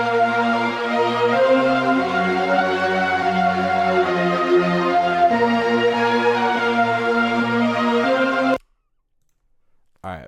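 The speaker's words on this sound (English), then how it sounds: "I swapped out the trumpets for this pad, which is from Synthetics Adapt to Volume 3 Serum Bank called Skies" The Skies synth pad from the Synthetics Serum bank holds sustained, warm chords in a steady wash for about eight seconds before cutting off abruptly, with a short return at the very end.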